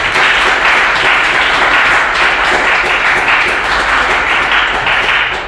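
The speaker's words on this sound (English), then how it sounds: "just can we clap again" Loud, close applause from a class audience at a university vocal master class, many hands clapping in a dense, even burst that holds steady for about five seconds before trailing off, with no talking over it.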